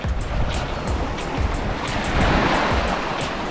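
Surf breaking on a remote, wild island beach, a steady wash of waves rolling in and hissing out close by, with some wind noise across the microphone and no voices.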